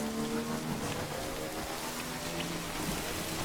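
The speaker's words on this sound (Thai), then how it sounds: "โอ้ฝนตกหนักเลย" Heavy rain pours down in the video game Death Stranding, a dense, steady hiss of downpour that holds at an even level throughout, with faint low tones of game music beneath it.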